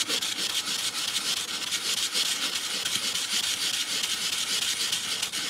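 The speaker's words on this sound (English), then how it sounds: "But I'm just going to start sanding." Wet sandpaper rubbed over a polymer clay piece at the edge of a tile, a close, steady, rhythmic scratching with back-and-forth strokes and no talking.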